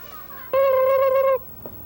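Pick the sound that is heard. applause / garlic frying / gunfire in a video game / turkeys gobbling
turkeys gobbling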